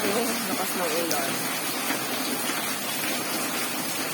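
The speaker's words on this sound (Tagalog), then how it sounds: "Lakas ng ulan." Heavy rain pours steadily outside a shop, a dense, loud, unbroken hiss of falling water throughout, with a voice faintly audible beneath it.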